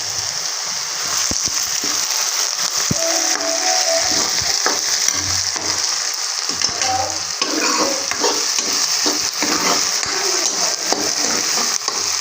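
Curry leaves fry in an egg bhurji pan, a strong continuous crackling sizzle with repeated scraping and stirring strokes close by.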